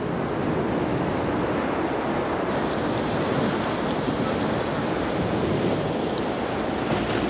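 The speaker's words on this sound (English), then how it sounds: "Gale force winds descend on the ship." Gale-force wind and ocean waves surge around a tall ship at sea as a hurricane builds, a steady, dense roar of wind and breaking surf that stays loud and unbroken throughout.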